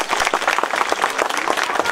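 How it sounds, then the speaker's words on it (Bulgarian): An audience at a kindergarten event in Aytos, Bulgaria, gives the official guests a strong, continuous round of applause, with many hands clapping densely and evenly at close range for two seconds. "Моля за вашите аплодисменти."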